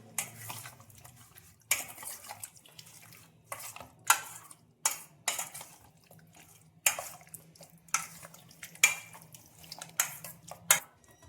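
Raw chicken being mixed with salt and spices for chilli chicken in a metal bowl, producing repeated sharp clinks and scraping knocks in irregular bursts, close and fairly loud with quiet gaps between.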